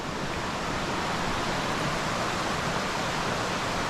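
Rushing water of a big creek at a stream crossing on a mountain loop hike fills the scene with steady, loud, broadband churning and no pauses.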